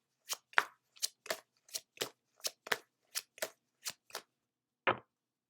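Tarot cards shuffled and drawn from a deck: a dozen crisp, separate slaps and riffles arriving in a quick, uneven rhythm, close and isolated against silence, with one last snap after a brief pause.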